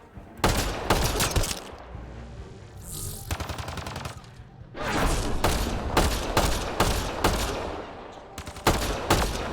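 Sci-fi automatic gunfire in a Mass Effect: Andromeda firefight, with loud repeated bursts and rapid volleys spread across the stretch, some brief pauses between them.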